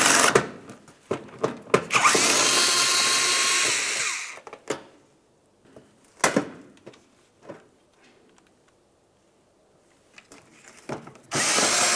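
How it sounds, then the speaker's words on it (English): A power tool with a 7mm socket spins out fender liner fasteners on a 2005-2010 Dodge Dakota, giving loud, close whirring bursts of a few seconds each, separated by quiet gaps and small clicks. "Next, we'll continue on with a 7mm socket."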